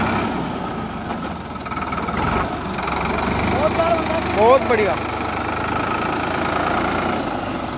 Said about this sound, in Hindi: ये DI-50 जो है 52 हॉर्स पावर कैटेगरी में आता है ट्रैक्टर